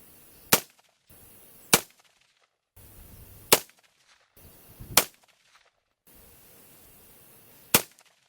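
AR15 rifle shots at an outdoor shooting range, five sharp single reports spaced about a second apart, moderately distant with brief quiet gaps between.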